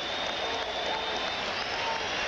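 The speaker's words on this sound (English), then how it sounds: "The crowd now rising to its feet all around Veterans Stadium." A large baseball crowd at Veterans Stadium in Philadelphia roars and applauds as fans rise to their feet, a steady wash of cheering from a distance.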